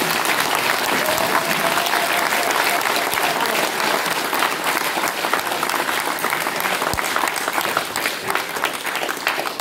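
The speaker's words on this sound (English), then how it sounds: "So round of applause for Alan." A conference audience at a UFO gathering in Holmfirth applauds a guest, Alan Godfrey, with loud, sustained clapping that fills the whole stretch evenly before tapering slightly at the end.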